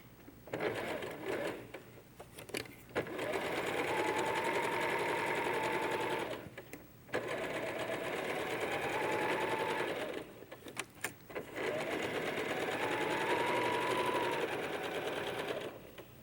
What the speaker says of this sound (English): I'm going to sew around the outside, just following that line.